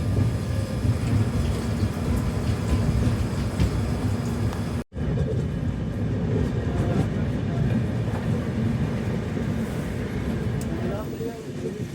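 A passenger train rolls into Sant Hirdaram Nagar, a small railway station, on a foggy day: a continuous close rumble of the moving carriages, broken by a brief dropout near the middle, then rumbling on steadily.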